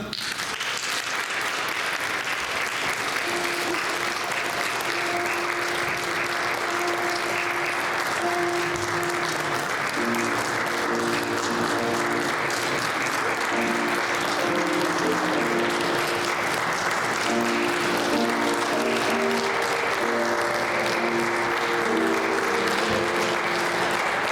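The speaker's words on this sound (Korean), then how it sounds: "우리 신랑 신부 입장하실 때 큰 박수로 축하해 주시기 바랍니다" Guests at a church wedding service applaud the bride and groom's entrance in a steady, sustained patter lasting the whole stretch, with soft tonal music running underneath.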